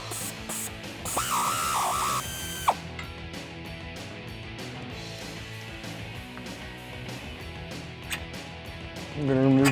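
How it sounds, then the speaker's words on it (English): A hand ratchet fitted with a 15mm socket turns the upper control arm bolts on a Jeep Wrangler TJ, giving a rapid clicking run, then steady ratcheting with metallic taps close up. "We're going to be using a 15mm socket on these bolts."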